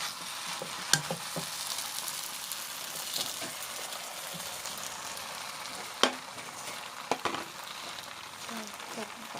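Wide rice noodles fry with soy sauce in a pan for pad see ew, giving a steady close sizzle. A few sharp utensil knocks and scrapes cut through it, and there is no talk.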